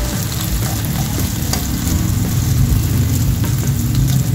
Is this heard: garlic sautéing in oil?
yes